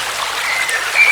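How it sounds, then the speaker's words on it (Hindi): Water flowing steadily over stones at an outdoor meditation retreat site, a constant near hiss and trickle, with a faint thin bird call briefly rising above it toward the end. "यहाँ पानी की भी मधुर आवाज आ रही है, चिड़ियों की भी आ रही है।"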